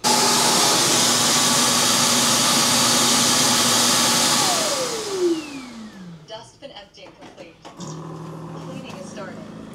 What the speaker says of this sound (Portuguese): o Rumba, que ele é um aspirador e passa pano automático